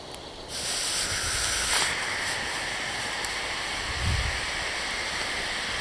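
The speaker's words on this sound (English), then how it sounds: "So we already have steam now." A loud steam hiss bursts in abruptly as hot rocks drop into water, holding steady, with a low bubbling rumble of water churning underneath.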